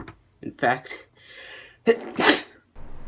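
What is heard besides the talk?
sneeze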